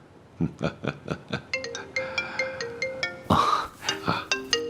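A mobile phone ringtone plays a bright, repeating melodic pattern of chiming notes, fairly loud and close, with a brief noisy rustle midway and no talking over it.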